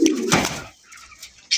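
A pair of large Rasgolla pigeons gives a short, loud coo up close, which then fades into quieter rustling and a final soft call.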